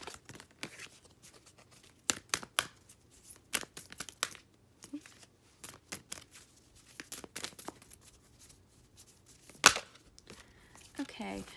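Tarot cards are shuffled and drawn at close range: irregular bursts of papery riffling, slaps and crinkles separated by short quiet gaps, with one sharper snap near the end.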